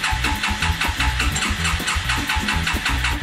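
A Suzuki King Quad 300 ATV with a carburetor needing a rebuild is started, producing a close, loud, rhythmic mechanical chugging that holds steady through the moment.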